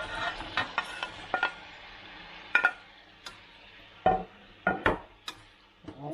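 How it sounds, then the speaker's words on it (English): Meat stirred back into a pan of sautéed onions, with scattered utensil scrapes and clinks over a soft sizzle; sharp contacts come in irregular bursts, close and moderately loud, no voices. "The onions are sauteed. We'll add our meat back in."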